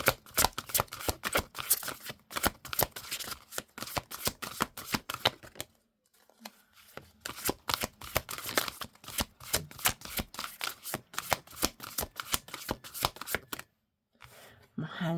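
A large deck of tarot cards is shuffled by hand in rapid riffling bursts of crisp flicks and slaps, close up, with short pauses between bursts.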